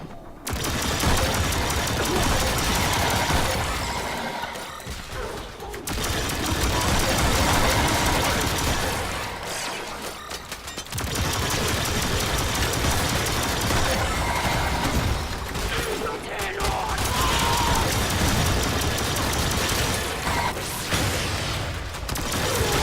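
Heavy sustained gunfire from the Synoid Simulor weapon in Warframe, fighting level 125 heavy gunners, with dense bursts of blasts and booms that break off briefly twice before resuming loud and continuous.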